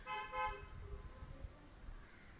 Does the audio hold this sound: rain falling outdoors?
no